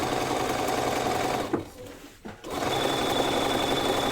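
A sewing machine stitches a quarter-inch seam on fabric for a padded laptop case. Its close, steady mechanical whir briefly slows and stops in the middle, then starts again.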